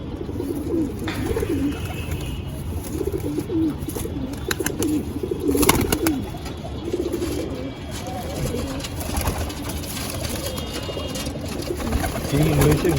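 Pigeons coo steadily in an Andhra and Madras pigeon loft, low burbling calls repeating through a busy background with rustling and wing flutters, while someone talks over them nearby.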